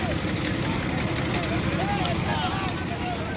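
A loud, steady trawler boat engine drone with rushing wind and rough sea water noise runs throughout, unbroken and close, off Patenga, Chattogram.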